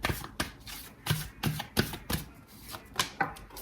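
Oracle cards shuffled and drawn by hand, giving a steady run of soft riffling slaps and papery thuds at a brisk, uneven rhythm, close up and with no voices.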